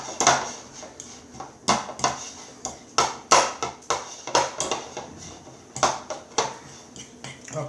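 Hard-boiled eggs being mashed in a bowl for deviled eggs, with a quick irregular run of sharp clinks and taps from the utensil striking the dish, close and fairly loud, with no talking.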